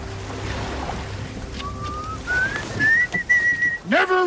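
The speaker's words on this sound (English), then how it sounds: "Never whistle in a ship, son." Aboard a sailing ship with wind and sea noise, a person whistles a short, rising tune that starts faint and grows clearer and louder toward the end.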